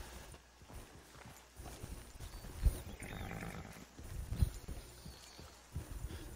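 A very large horse in Red Dead Redemption 2 Online gives off steady clip-clopping hooves with a few heavier thumps and low snorting rumbles, fairly close and loud, with no talking.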